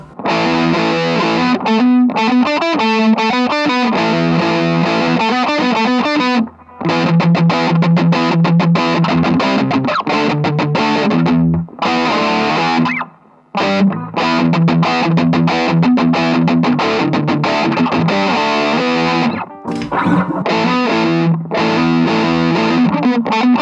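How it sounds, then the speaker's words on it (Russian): A B.C. Rich Mockingbird electric guitar played through heavy distortion, with loud, continuous classic-rock riffs and sustained chords broken by a few brief pauses, and no talking. "Давайте заценим дисторшн, что-нибудь такое опять классическое."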